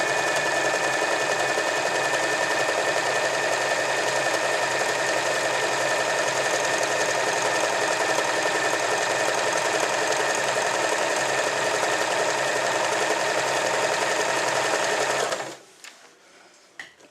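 A Swiss Elna 318 semi-industrial sewing machine runs an overlock stitch with a fast, even mechanical whir that holds close and loud for about fifteen seconds, then stops abruptly, leaving a few faint clicks.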